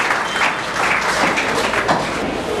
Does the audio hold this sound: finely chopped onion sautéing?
no